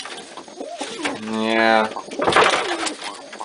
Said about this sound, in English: Anyways, that's a good pigeon.